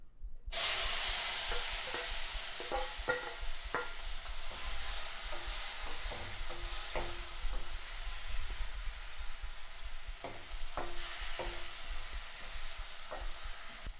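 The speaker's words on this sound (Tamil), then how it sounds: "வச்சுட்டு கருவாடை சேர்த்துடலாம்." Dry fish frying in oil on a low flame, a continuous crackling sizzle close by with scattered sharp pops and spatters, no voices.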